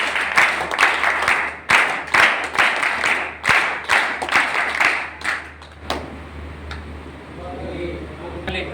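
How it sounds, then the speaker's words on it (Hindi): A group claps to welcome the next speaker at a gathering in a de-addiction centre, loud rhythmic applause for about six seconds that then fades to quiet room sound with a few scattered claps. "सारे भाई जोरदार तालियों से स्वागत करेंगे।"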